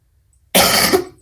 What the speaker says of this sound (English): I'll be little bit coughing and stopping.